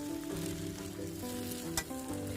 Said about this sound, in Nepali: एकदम आगोको आँच ठुलो बनाएर हाई फ्लेममा भुट्नुपर्छ